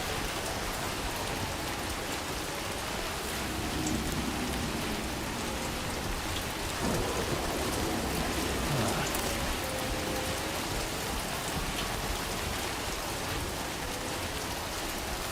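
Steady video-game rain pours continuously and evenly over a hillside scene, a dense hiss of drops with no talk, holding at a moderate level throughout.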